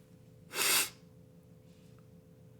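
A single loud, close sneeze bursts out sharply and fades quickly, with quiet room hum before and after.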